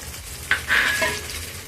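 Tomatoes and chicken liver sautéing in a pan, with a scraping stir and a short burst of sizzle near the middle against a low background hiss, heard alone.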